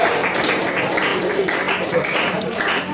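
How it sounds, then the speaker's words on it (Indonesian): A classroom of students clapping for a student group after their turn, a dense, steady patter of many hands lasting throughout, with voices mixed in underneath. "tepuk tangan dulu buat dari kelompok itu"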